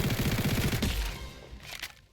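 A rapid burst of muffled, suppressed gunfire in the video game Combat Arena rattles for under a second, then trails off into quieter game sounds.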